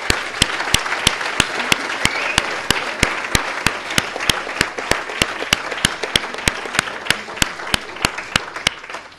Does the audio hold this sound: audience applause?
yes